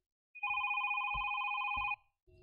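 A telephone rings with a single long electronic trill, bright and clear, cutting off after about a second and a half, with a couple of low thumps underneath and a brief sound just after.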